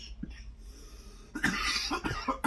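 A single cough early, then a burst of harsh, rough coughing close by, several hacking coughs in quick succession.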